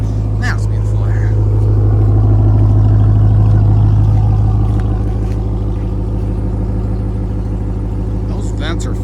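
A Ram TRX pickup's big engine idles with a deep, steady rumble close by. A voice talks over part of the drone.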